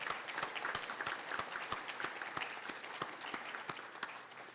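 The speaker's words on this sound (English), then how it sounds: "that's worth a round of applause" An audience applauds at a university nursing school groundbreaking celebration, a steady round of many hands with sharp individual claps standing out through the wash, loud and continuous for the whole stretch.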